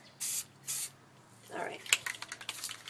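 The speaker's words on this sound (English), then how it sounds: "there's just less room for error when you spray it in small bursts" Spray paint hissing from an aerosol can in two short, even bursts, close and fairly loud, followed by quieter handling and rustling as a prop gun is being painted.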